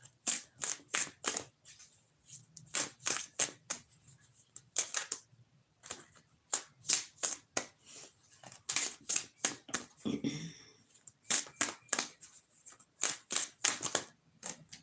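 A tarot card deck being shuffled by hand, with quick, crisp riffling bursts that repeat in uneven clusters. It sounds close and quiet, with a soft rustle midway.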